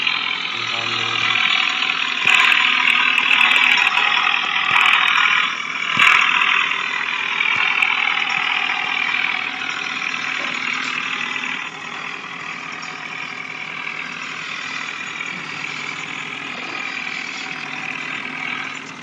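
A Mahindra Arjun tractor engine running at a steady idle, a continuous mid-pitched drone holding throughout, with voices talking over it.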